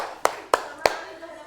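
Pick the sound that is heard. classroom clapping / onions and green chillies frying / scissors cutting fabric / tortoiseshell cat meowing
classroom clapping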